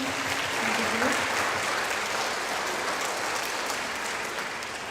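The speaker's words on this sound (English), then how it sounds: "So if we want to give her a nice round of applause for all of her help she's done." A school gathering applauds a retiring staff member at a sixth grade orientation, a steady burst of clapping that holds evenly, with a brief voice near the start.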